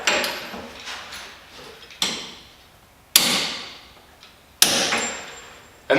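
Axle nuts on a long-travel Toyota Tacoma are tightened to torque spec: four sharp metallic clicks or impacts, spaced about a second apart, each ringing out and decaying, close and fairly loud with no talk.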